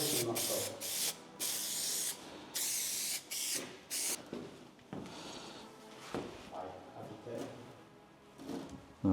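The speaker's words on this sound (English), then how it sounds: "So I think if we spray one side first and do it side to side" Spray adhesive sprayed onto the roof of an RB200 for stretch carpet trim, a series of loud close hissing bursts of varying length, then handling noises and faint voices.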